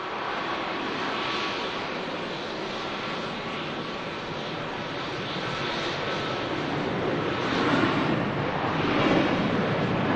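Air Transat Airbus A321neo jet at Manchester Airport, a steady broad engine roar with wind-like rush that holds throughout and swells slightly louder toward the end, no voices.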